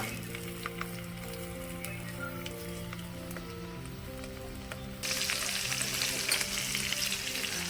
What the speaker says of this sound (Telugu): ప్యాన్ పెట్టి ఆయిల్ వేసుకున్నాను. ఫస్ట్ పచ్చిమిర్చి యాడ్ చేస్తున్నాను.